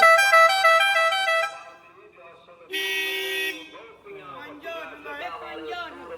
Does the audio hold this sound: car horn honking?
yes